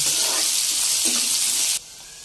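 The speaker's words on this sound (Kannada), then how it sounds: "ಈರುಳ್ಳಿನ ಸ್ವಲ್ಪ ಫ್ರೈ ಮಾಡ್ಕೊಳ್ಳೋಣ" Chopped onions fry in a pan with cardamom, cinnamon and bay leaf for palak paneer, a loud steady close-up sizzle that drops abruptly to a quieter hiss near the end, with no talking.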